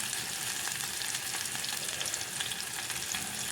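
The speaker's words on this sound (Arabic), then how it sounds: "انا بس بديله تشويحه كده بسيطه" Peppers sautéing in a pan with a steady, moderately faint sizzle and crackle throughout, with no voices.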